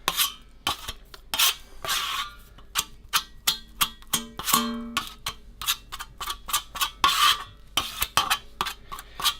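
A tool scrapes and taps against a container while builders bog filler is mixed by hand, giving quick, irregular clicks and scrapes at close range, with a short tonal squeak partway through and no voices.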